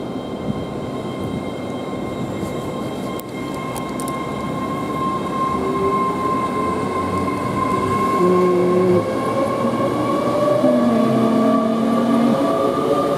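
A GWR Class 802 passenger train rumbles steadily with rising wheel and motor tones as it slowly pulls away from Swindon station, a continuous mechanical drone with no voices.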